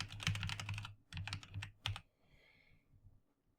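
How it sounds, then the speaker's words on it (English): Close computer keyboard typing sounds as a series of quick clicking keystrokes in a few bursts, then trails off into a few softer, sparse taps. "I'm going to type it in."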